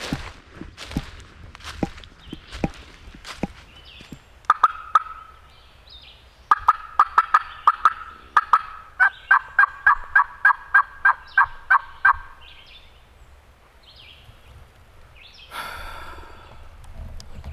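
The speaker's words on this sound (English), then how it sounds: "Late season turkey gobbling" An eastern wild turkey, a public land longbeard, gobbles in late season, with several rapid rattling gobble bursts at moderate distance against quiet woods, mixed with scattered footsteps and brush rustles nearby.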